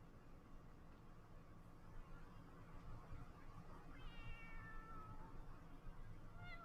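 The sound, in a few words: cat meowing in the video game Final Fantasy XIV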